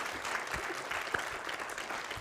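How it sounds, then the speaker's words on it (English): Applause from a conference audience for a speaker in a session room, fairly quiet and distant-sounding, continuous scattered clapping over the whole short stretch. "big round of applause to our speaker"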